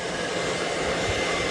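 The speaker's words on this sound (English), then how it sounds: "Another little trick to speed up the process, just get a hairdryer," A hair dryer blows a steady, loud broadband rush of air over freshly applied coating on a Ferrari 355 outdoors on a cool grey day, unbroken and close for the whole stretch.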